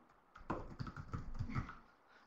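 Short burst of computer keyboard typing during graphic design work in Adobe Illustrator, several quick close key taps over about a second, quiet and alone.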